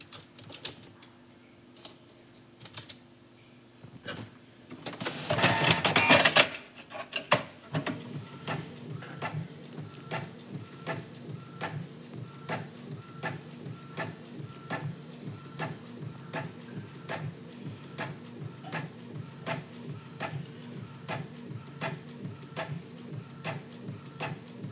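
A Canon G2020 inkjet printer printing a page. A short mechanical whir and rush gives way to a steady, rapid ticking and clicking rhythm as the print head shuttles back and forth, close by, with no talking.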